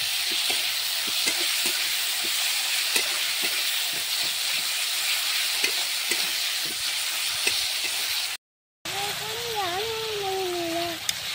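Chopped tomato fries with spice paste in a pan, making a continuous close sizzle with faint stirring taps, a brief cutout near the end, then a wavering tonal sound over the frying.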